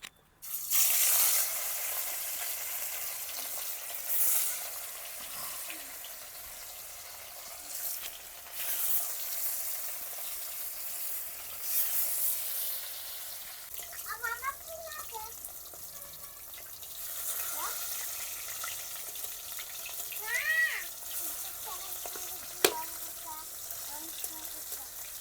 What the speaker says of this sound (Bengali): তেল গরম হয়ে গিয়েছে, এখন মাছগুলো দিয়ে দেব।